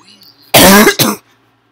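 Two harsh, loud coughs close to the microphone, a long burst followed quickly by a shorter one, with quiet room tone before and after and no talking.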